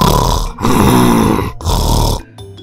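A man snores heavily in deep sleep after drinking liquor in a tent on a mountain trek, with loud, rasping, close breaths in two long rumbling pulls and a shorter third.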